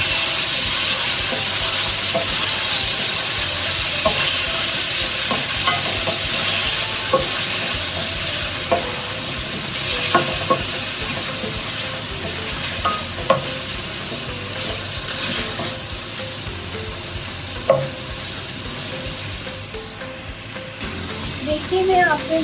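Ginger garlic paste sizzles and hisses in a hot pan while cooking restaurant-style Chinese fried rice, a loud continuous frying sound with occasional stirring clinks and scrapes that gradually settles down.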